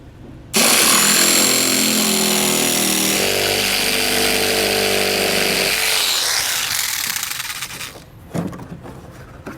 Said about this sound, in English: we're just going to use our reciprocating blade to cut out the flat panel portion here